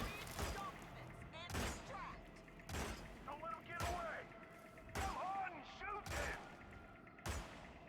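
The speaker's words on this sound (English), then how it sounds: "You can stop shooting!" Gunfire in the Hitman game: six or seven sharp, evenly spaced shots about a second apart, moderately loud, with clanking mechanisms and a voice shouting between them.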